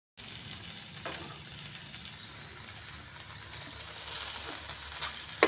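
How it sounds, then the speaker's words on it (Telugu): Ginger, garlic, tamarind and coriander fry in a pan on the stove for an old-style homemade tamarind chutney. A steady, close sizzle runs throughout, broken by a few faint clinks, with no voices. "మంచిగా దోరగా వేగాయి ఫ్రెండ్స్ అల్లం వెల్లుల్లి రెబ్బలు చింతపండు కొత్తిమీర అన్నీ వేసాం కదా"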